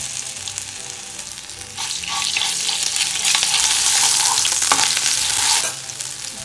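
Cumin seeds and ginger-garlic paste hit hot oil in a pan, crackling and hissing louder as the paste goes in, with scattered pops and stirring scrapes, no voices.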